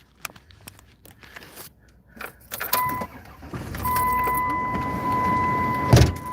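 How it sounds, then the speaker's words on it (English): A car's keys jangle and click in the ignition, then the engine turns over and settles into a steady idle with a fan hum, close and fairly loud, no talking. "gonna start up the car and get some air conditioning"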